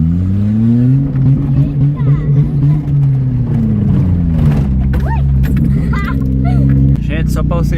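A vehicle engine rumbles and drones steadily close by on a sunny rural outing to gather firewood, its pitch shifting slightly, while people talk loudly over it.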